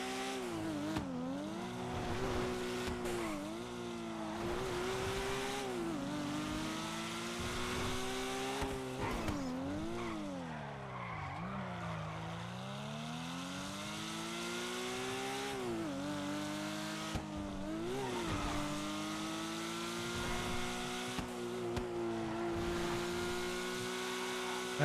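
A race car engine in a racing video game, revving up and down through gear changes with occasional tire squeal, continuous and prominent through a practice lap, with faint talk at times.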